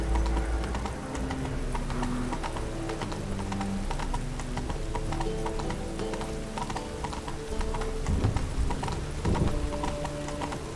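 Horse hooves clip-clop at a steady walking rhythm in The Witcher 3 amid falling rain, with a low wash of game ambience underneath and no speech.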